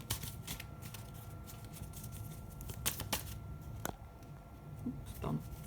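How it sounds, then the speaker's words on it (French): Cards are drawn and handled from a deck of cards, giving scattered, soft close snaps and riffling taps spread unevenly over several seconds with no talking. "J'ai envie de tirer une autre carte."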